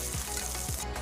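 Chopped onions hit hot oil already seasoned with mustard seeds, urad dal and curry leaves for a Tamil egg masala, giving a steady close sizzle with a couple of brief stirring scrapes.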